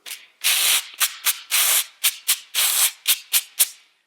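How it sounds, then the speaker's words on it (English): A sandpaper block is rubbed against a sheet of sandpaper as a percussion instrument, making loud, close rasping strokes in a rhythm that mixes long scrapes with short quick swipes. "I also picked up the sandpaper block and a piece of sandpaper."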